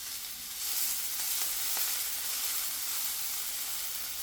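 Onions sizzle steadily in a cast iron skillet, with a continuous close frying hiss that swells slightly after the first half second and holds, no voices present.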